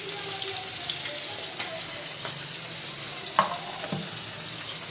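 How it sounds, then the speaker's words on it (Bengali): Bata fish frying in hot oil, a close, continuous crackling sizzle with faint clinks of utensils and no talk. "এবার মাছ ভাজা হচ্ছে"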